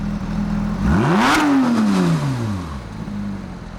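A Bugatti engine revs hard, pitch sweeping up to a loud peak and then winding back down as the roar fades, with no talking.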